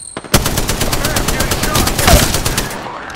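Shotgun and automatic weapon fire in a video game, a Mastiff shotgun among the guns, with rapid sustained bursts blasting loud and close throughout.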